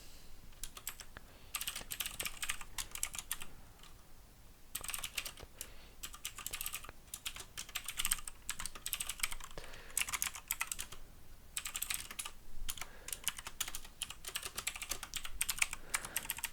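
Rapid typing on a computer keyboard, dense bursts of close, crisp key clicks separated by short pauses, with no voices.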